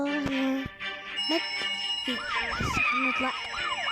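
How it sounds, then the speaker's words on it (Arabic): A fire engine siren wails in a mobile firefighting game, a rising and falling electronic tone that starts after a few cartoon effects and grows louder, with some speech over it. "رجل الإطفاء كيكي ينطلق الآن"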